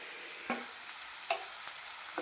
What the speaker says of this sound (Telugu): ఉల్లిపాయలు బాగా ఫ్రై అయిపోయాయండి.